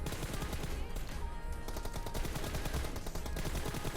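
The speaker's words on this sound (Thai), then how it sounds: "เวลาที่เรายิงศัตรูนะครับ" Rapid automatic gunfire from a PUBG Mobile shooting match at enemies, loud and continuous bursts with a brief lull midway, under faint game ambience.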